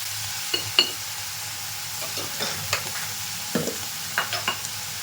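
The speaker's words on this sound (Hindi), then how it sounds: "यहाँ देखिए थोड़ी देर भूनने के बाद से टमाटर को डाल दिया हमने" Tomatoes for a sweet-and-sour chutney sizzle gently in a pan while a spoon stirs them, scraping in soft, irregular strokes over a steady low fry, close and fairly quiet with no voices.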